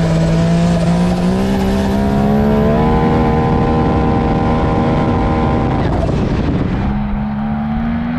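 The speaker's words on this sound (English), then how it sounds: "Hear that blow-off valve." A 500hp Can-Am Maverick X3 side-by-side revs with a rising, whining turbo engine note, then a loud hissing blow-off valve burst near the end as the engine drops off, close and continuous.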